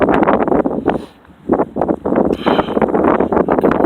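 Outdoors in Findlay, Ohio, gusty wind buffets the microphone in loud, uneven rumbling bursts that surge and drop, with only a short lull partway through.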